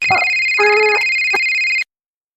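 A mobile phone ringtone in a Malayalam animated comedy series plays a steady electronic tone with short melodic bursts for about two seconds, then cuts off to silence.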